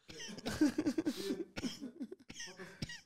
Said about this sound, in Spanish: te pega la tos